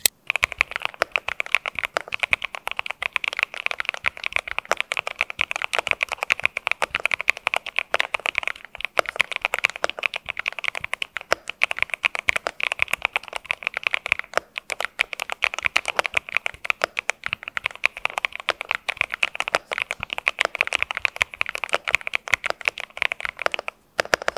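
Dense, continuous keystrokes on a Cidoo V65 V3 mechanical keyboard, with no case ping, fast clacky typing running steadily and up close for the whole stretch, with no speech.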